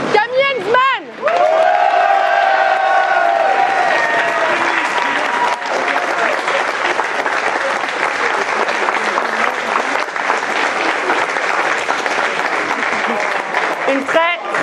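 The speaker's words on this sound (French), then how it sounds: "Un tonnerre d'applaudissements s'il vous plaît." At the finale of a 2024 eloquence contest, an audience breaks into loud, sustained applause and cheering. A voice speaks briefly at the start before the clapping takes over and fills the rest.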